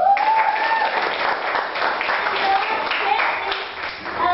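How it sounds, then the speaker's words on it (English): Audience applause for three guest speakers at an event, steady dense clapping from a crowd filling the whole stretch, with a voice speaking over it at times. "give applause for our three guest speakers"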